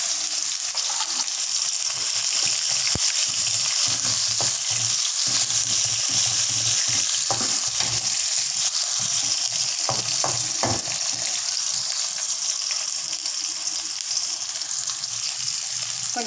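Onion and dried red chillies fry in hot oil for a Tamil young mango pachadi, giving a steady, close sizzle with occasional stirring scrapes and clicks throughout, and no talking.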